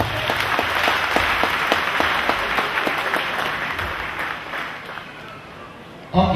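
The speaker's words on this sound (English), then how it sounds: "Clap for Jesus Christ" A church congregation applauds steadily during a prophecy service, with dense, overlapping claps and some voices mixed in; the clapping fades slightly before a sharp loud burst at the end.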